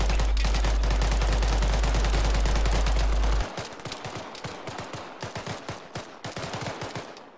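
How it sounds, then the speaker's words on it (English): Rapid bursts of gunfire from the Arma III military shooter, a dense automatic stream for the first half then scattered, slightly quieter shots and cracks continuing to the end. "you're firing all on the sandbag, man"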